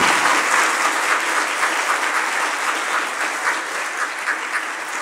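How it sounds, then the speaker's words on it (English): A church congregation gives a warm round of applause in the sanctuary, many hands clapping in a dense, even roar that holds steady for several seconds without speech. "Let's all give them a round of applause."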